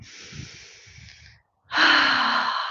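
Deep breathing during a hip flexor stretch in a live workout: a long, slow exhale through the nose, a brief pause, then a loud, forceful breath close to the microphone.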